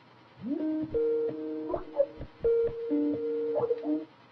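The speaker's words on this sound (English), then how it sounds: "So this is the Skype ringtone, and here's the normal how it sounds." Skype ringtone plays alone, a bright electronic melody of rising and stepping tones repeated in two short phrases, clear and close in a quiet room.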